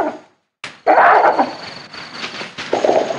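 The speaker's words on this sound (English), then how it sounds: "Sometimes they give a questioning bark" A wild gorilla in a family group gives a short questioning bark, sharp, close bursts followed by rustling and a second rougher vocal burst.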